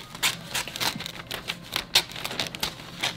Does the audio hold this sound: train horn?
no